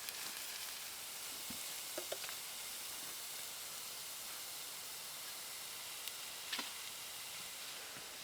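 A mushroom mixture for beef Wellington sizzles and hisses steadily in a pan inside a hot tent in arctic cold, cooking down to dry out, faint and even with a few small pops and ticks.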